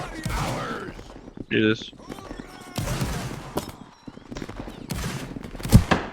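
Ragged musket volleys crack out in a line-battle video game featuring 95th Rifle sharpshooters, with bursts of gunfire coming in uneven clusters amid shouting voices and battlefield commotion.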